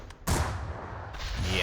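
Cannon and gun fire in the airship battle game Airships: Conquer the Skies: one sharp, heavy blast that rings out into a long rumbling decay, loud and close, with no talking.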